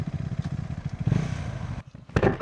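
A motorcycle passing on a road in Bukidnon, Northern Mindanao, its engine putter rising and falling close by, with brief clattering as it goes.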